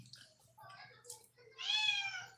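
A cat meows repeatedly at close range in a home during a meal, several short cries rising to a loud, drawn-out meow near the end, with a low steady hum beneath.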